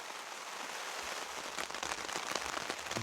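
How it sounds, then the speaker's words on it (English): Rain falling steadily on a campsite, a soft, even patter of drops that thickens slightly after the first second and continues with no voices. "Rain is still coming down"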